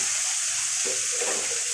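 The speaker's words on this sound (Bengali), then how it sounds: "মাছটা আমি একটু ভালো করে ভেজে নেব।" Hilsa fish head frying in oil in a wok, giving a steady, close hiss of sizzling oil with a few brighter crackles toward the end, no voices.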